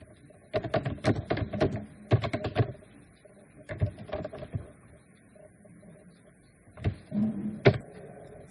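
Keys clatter on a computer keyboard while Java code is written, in three quick bursts of tapping separated by pauses, fairly close and clear with no talking.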